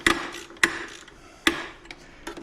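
A socket wrench fitted with a long 3/16 Allen socket loosens the front lighting bolts on a 2023 Harley-Davidson Road Glide ST. A few sharp metallic clicks and ratcheting ticks come close up with gaps between them, and there is no speech.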